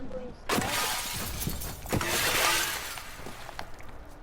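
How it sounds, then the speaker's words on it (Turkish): Glass shattering in the CrSed video game as a car crashes into a window: a sudden loud burst of breaking glass with scattered tinkling debris, under excited voices talking. "Çarptım cama cam kırılıyor o işler."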